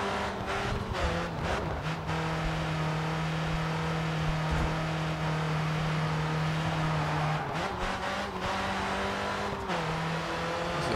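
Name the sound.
racing car engine and skidding in the video game Grid 2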